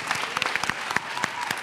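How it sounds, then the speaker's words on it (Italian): Audience applause behind the scenes at a film event, a short burst of scattered, fairly close hand claps with distinct individual claps, moderately loud. "Un applauso."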